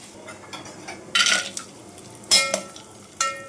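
Whole garam masala spices and bay leaves stirred in hot ghee in a metal cooking pot for pulao, giving a few short bursts of scraping and crackle against a quiet kitchen background.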